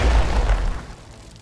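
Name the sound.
grenade explosion in video game Age of Wonders: Planetfall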